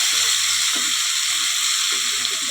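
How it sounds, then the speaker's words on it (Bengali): Vegetables for a vegetarian young-jackfruit dish sizzle in an uncovered pan as a spoon stirs them. A loud, continuous hiss of frying runs throughout, with a few scraping strokes against the pan. "বন্ধুরা, ঢাকনাটা খুলে দিচ্ছি, আবার একটু ভালো করে নেড়ে দিচ্ছি।"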